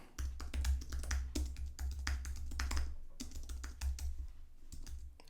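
Close, rapid clicking of computer keyboard keys comes in quick bursts of typing, with a brief pause near the end before a few more keystrokes; no one speaks.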